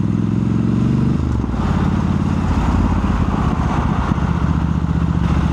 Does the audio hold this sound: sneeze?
no